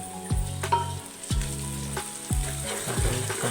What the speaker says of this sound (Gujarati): હવે પછી આપણે કણચીથી હલાવી દઈશું